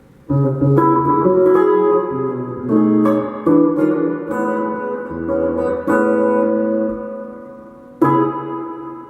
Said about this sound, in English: Real long reverb there.